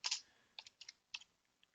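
A handful of quick keystrokes on a computer keyboard, sharp close clicks in short uneven bursts over under two seconds in a quiet room.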